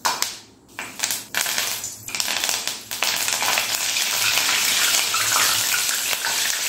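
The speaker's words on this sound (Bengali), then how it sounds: "এই কারি পাতা ভাজার সময় কিন্তু খুব তেল ছিটকায়" Curry leaves fry in hot oil with a loud, crackling sizzle. A few brief gaps and bursts at first settle into a continuous, close spattering hiss.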